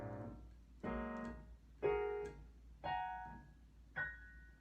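Piano notes struck one after another in small clusters on the groups of three black keys, five separate ringing attacks spaced about a second apart, each decaying before the next, close and clear with no talk.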